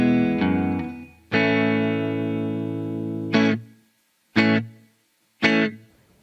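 A Squier Paranormal offset Telecaster plays through a Rainger FX Reverb-X reverb pedal: a few short plucked notes, a long sustained chord ringing with a reverb tail, then three separate strummed chords that cut off sharply.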